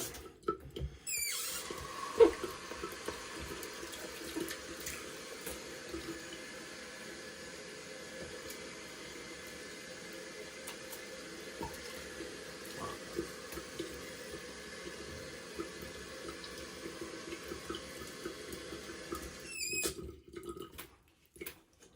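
Tap water running for a warm rinse after shaving, a steady soft hiss of flowing water lasting most of the clip, with faint splashes and clicks at the start and end.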